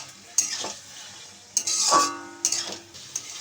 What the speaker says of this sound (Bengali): মশলাটাও কষানো হয়ে যাবে, আলুটাও ওর মধ্যে সিদ্ধ হয়ে যাবে